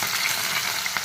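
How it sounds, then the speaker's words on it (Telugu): Onions with tempering spices and chili sizzle in heated oil, a brief, busy crackle with faint stirring scrapes, close up and free of talk. "ఆనియన్స్ ఫ్రై అవుతున్నాయి."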